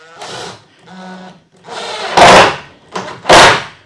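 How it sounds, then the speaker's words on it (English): A power drill drives screws into a Murphy bed pivot, with short whirring bursts and two louder, harsher runs near the end, close and alone. "I'm going to, again, just put two screws to hold it in place while I drill it."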